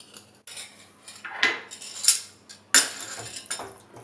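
A spoon stirs white sauce pasta in a cooking pan, giving scattered metallic clinks and scrapes against the pan at an uneven pace, close and fairly loud, with no voices.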